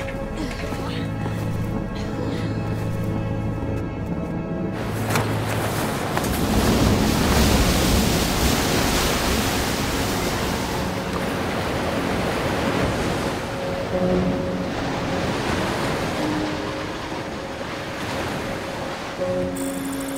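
Ocean waves of the open sea in a dubbed Hollywood action film, with a broad, continuous rushing wash swelling and easing for twenty seconds while faint musical tones drift underneath.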